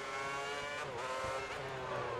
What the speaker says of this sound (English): I can hear wheel spin on almost every corner exit